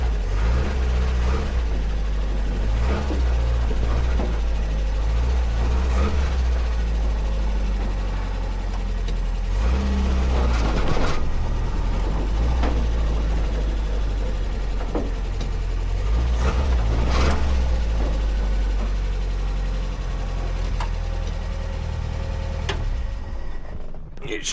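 Engine of a Ford Escort MK1 rat van while it drives, a loud, continuous low rumble with uneven throbbing and some rattles, dropping off abruptly at the end.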